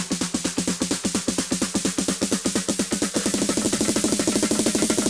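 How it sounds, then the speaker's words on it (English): Rapid snare hits roll through a dance track build-up, evenly spaced and punchy, growing denser and louder in the second half as more layers join the rising fill. "And also we got a bit of a drum fill, just some snares."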